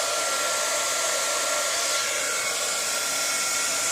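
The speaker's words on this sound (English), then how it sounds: "I'm gonna grab my heat tool." A handheld heat tool blows hot air over embossing powder, making a loud, steady, close whoosh that runs unbroken for the whole few seconds with no talk.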